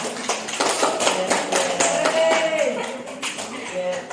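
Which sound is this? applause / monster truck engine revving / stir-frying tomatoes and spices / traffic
applause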